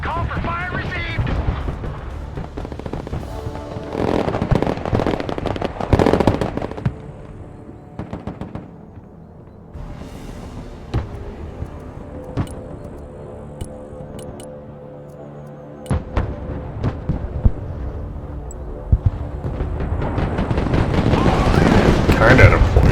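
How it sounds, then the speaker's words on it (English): Artillery fire support in the video game Broken Arrow, with booming explosions and rumbling impacts that rise, fade and build again under a busy battle mix, with loud rolling blasts near the start and the end. "Let's give them some indirect fire support"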